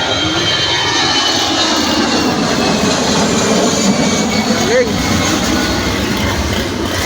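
An aircraft engine roars steadily and loudly overhead in the rain, a sustained rumbling drone that masks the background, with a faint whine near the end.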